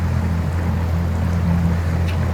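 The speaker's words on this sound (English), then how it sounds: "good running boat, cruising along" A marketplace skiff motorboat cruises across the water, its engine droning steadily and loudly with a low hum, water rushing beneath.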